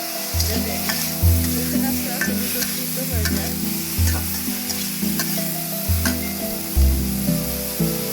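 Raw onion frying in hot oil for a prawn and ridge gourd curry, a steady close sizzle with repeated scraping strokes of a spoon stirring the pan, no voices.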